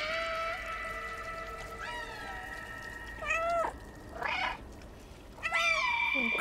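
Cats meow in the video game Stray: a long drawn-out tonal meow, then several shorter rising and falling meows in turn, moderately loud against a quiet background hum.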